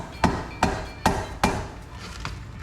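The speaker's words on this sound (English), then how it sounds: "Just get a little big screwdriver, flathead, and a little sledge, and then just give it some light taps." A small sledgehammer delivers light taps to a flathead screwdriver set against a BMW E30 325i engine. Four sharp, evenly spaced metallic knocks ring close up, followed by a fainter fifth tap, with no talking.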